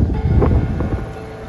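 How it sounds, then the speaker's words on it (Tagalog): Strong wind roars steadily across the microphone in a constant, buffeting rush of noise, at the Daraitan River in Rizal. "Idagdag pa ang malakas na ihip ng hangin."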